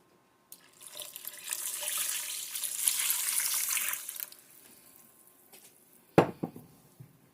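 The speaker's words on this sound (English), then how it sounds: "And now we're going to put our liquids in there." Liquids pour into a cooking pot for a rice dish, a steady running splash lasting several seconds before tapering off, followed by a sharp clink and a few faint drips and knocks.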